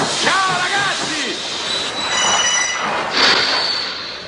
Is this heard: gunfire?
no